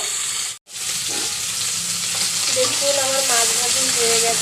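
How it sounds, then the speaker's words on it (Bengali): Mrigal fish fries in hot oil with a steady, close sizzle and crackle after a brief silent gap at the start. "মাছ ভাজা পর্যন্ত অপেক্ষা করবো"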